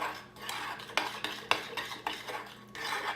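Keto cinnamon roll ingredients with cream cheese being mixed in a bowl, a quiet rhythmic scraping and clinking of a utensil against the bowl, close and alone.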